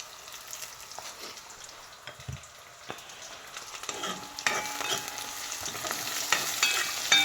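Onions with ginger, garlic and chilies frying in a traditional pot, a soft, close sizzle with occasional stirring clicks that grows louder and denser toward the end, with no talk.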